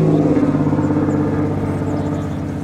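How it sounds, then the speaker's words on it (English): A truck drives past, a loud, close rumbling engine that swells and then gradually fades as it moves away. "here comes a truck."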